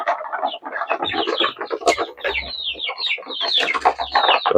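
Hens cluck and squawk continuously at close range, a busy chatter of several birds with occasional low thumps.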